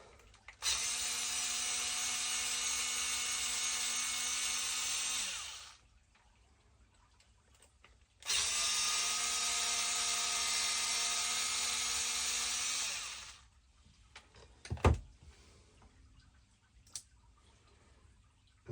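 A small power driver removes bolts on a Traxxas XRT RC truck, whirring in two steady bursts of about five seconds each with a pause between, followed by faint clicks and a soft knock; close, no talk.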